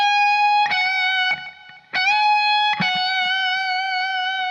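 Electric guitar with a distorted tone playing a solo: a sustained note on the first string is bent up a whole step and released back down, repeated with sharp pick attacks, loud and close, with no talking.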